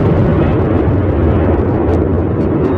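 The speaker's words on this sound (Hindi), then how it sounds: "बीच के इस भयंकर दबाव के कारण एक विशाल विस्फोट हुआ" A deep explosion sound effect for a vast cosmic blast in space: a loud, continuous rumbling roar that fills the whole stretch without letup.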